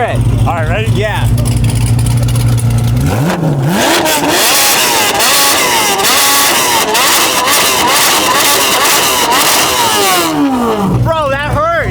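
A Corvette Z06 fitted with headers and a full straight pipe revs hard, its exhaust roaring loudly through repeated climbing and falling bursts, very close and raw, with voices mixed in around the engine noise.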